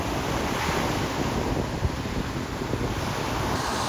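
Ocean surf and wind on a chilly beach, a steady, loud wash of breaking waves with gusting wind buffeting the microphone throughout, no voices.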